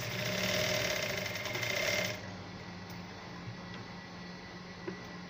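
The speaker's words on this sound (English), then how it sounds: "I'm still going to go ahead to sew this side, so which is what I'm doing now." A sewing machine stitches the seam of a scissors-neck basque corset blouse, running steadily at a loud, even, whirring pace for about two seconds before it stops, leaving only quiet room noise with no talking.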